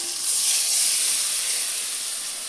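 Water poured into a hot pan of bhola fish in mustard paste sets off a bright, sharp hiss that holds steady and slowly softens, close and loud, with no talking.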